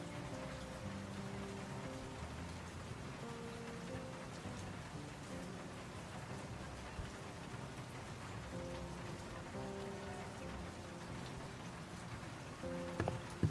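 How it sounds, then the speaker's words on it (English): Steady rain beating against an office window, a constant dense patter with a low sustained musical tone underneath, unbroken throughout and moderately loud with no voices. "The rain beats against the office window."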